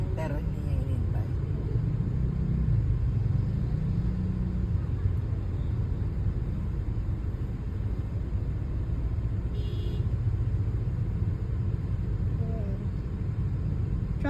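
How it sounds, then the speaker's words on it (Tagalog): Steady low rumble of idling and creeping car engines in a traffic jam in the Philippines, continuous and close, with people talking over it throughout. "Traffic jam."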